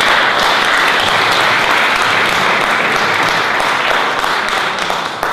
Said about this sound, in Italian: rivolgiamo un applauso di valore